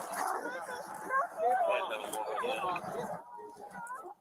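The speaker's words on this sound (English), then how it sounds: "A deputy attacked by a dog." A dog yips, whimpers and barks during an attack on an Oklahoma County deputy at a traffic stop near I-40, with agitated canine noise running continuously under people talking.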